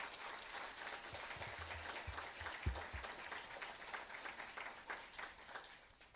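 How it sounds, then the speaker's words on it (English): A small press conference crowd at Cypress Village in Florida gives a soft, steady round of applause, thin scattered clapping heard from a distance with no talking over it. "Round of applause, please."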